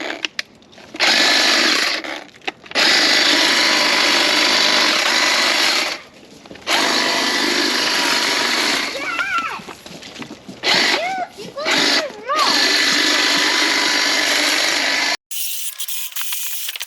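Milwaukee battery power trimmers cut Siberian elm branches while small yard trees are pruned. Loud, close bursts of buzzing motor start and stop, broken by short pauses, and a few brief voices come in between the cuts.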